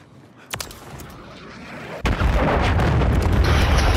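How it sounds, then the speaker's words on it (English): In Call of Duty Modern Warfare 3, a cruise missile strike lands: a faint pop, then a sudden heavy boom that rolls into a loud, sustained rumble of debris and noise. "Hostiles launched a cruise missile."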